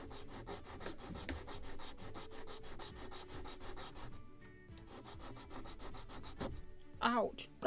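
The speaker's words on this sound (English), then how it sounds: "we can do it on the sanding block" Small triangular wooden parts for a model of the 1776 gunboat Philadelphia are rubbed on a sanding block in quick, rhythmic close-up strokes, soft and even, with a brief knock near the end.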